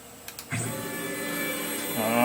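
A Tormach PCNC 1100 CNC lathe whirs steadily as it moves to its G30 safe position, a continuous close mechanical drone after a couple of brief clicks, rising slightly toward the end.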